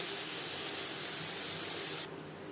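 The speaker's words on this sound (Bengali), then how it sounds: "এই রান্নাটা আমি কাঁচা লঙ্কা দিয়ে ফ্রাই করছি" Katla fish frying with green chilies in hot oil, a close, steady sizzling hiss that cuts slightly quieter near the end, with no talk over it.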